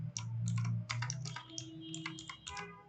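Quick bursts of keystrokes typing a short phrase on a computer keyboard, close and clear, with an uneven rhythm and a low hum underneath.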